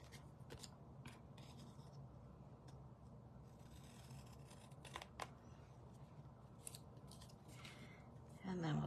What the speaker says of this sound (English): let's flip this over and trim this one off.